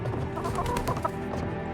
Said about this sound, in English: Nothing back here but chickens